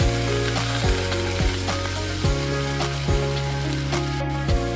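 Cut squid stir-fries in a hot pan for a Korean dish, sizzling loudly and steadily while the spatula scrapes and shifts the pieces in periodic strokes, up close with no voices.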